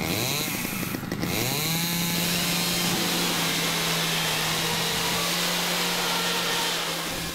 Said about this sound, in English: Chainsawed through the garage door.